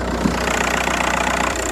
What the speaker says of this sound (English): this is the engine of the Golf, and you can see it's running right now